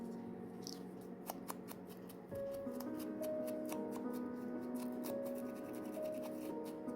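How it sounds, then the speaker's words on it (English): Scissors snipping through altered Rolodex cards, a quick series of crisp close cuts and rustling paper, steady and unaccompanied by speech. "gonna cut like this and then I'll see"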